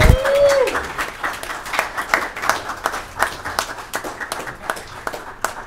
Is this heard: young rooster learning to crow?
no